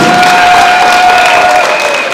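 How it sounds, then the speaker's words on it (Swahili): A Pentecostal church congregation in Kisii, Kenya, claps loudly and steadily, a dense, close burst of applause with some cheering mixed in, lasting throughout. "Tupigie Yesu makofi"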